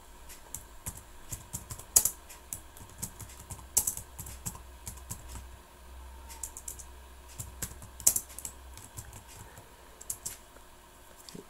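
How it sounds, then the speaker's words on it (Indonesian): Keys clatter irregularly on a computer keyboard as data is entered into a Microsoft Excel 2016 spreadsheet, a steady run of soft close clicks with a few louder taps standing out, no voices. "sekarang Pak Guru akan mengetik datanya"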